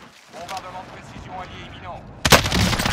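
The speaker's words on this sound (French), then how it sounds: "Sniper, ça me vise." Gunfire in Call of Duty Warzone arrives as a sudden loud burst of shots near the end, after a stretch of muffled game sound with players talking.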